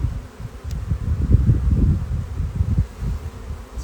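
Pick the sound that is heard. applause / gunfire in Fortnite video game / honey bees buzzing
honey bees buzzing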